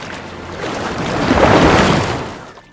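Ocean surf at the sea's edge where a sea turtle hatchling reaches the water, a broad wash of waves swelling louder through the middle and then easing off, with wind noise and no voices.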